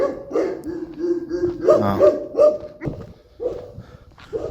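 Dogs barking and yipping close by in a series of sharp, repeated barks with short whimpering notes between them, loud and continuous.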